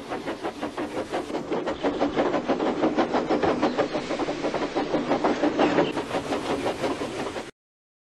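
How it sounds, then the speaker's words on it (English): A train pulling passenger coaches rolls steadily along the rails with a rapid, rhythmic clickety-clack and chuffing, loud and close, then cuts off abruptly. "he had to pull a passenger train"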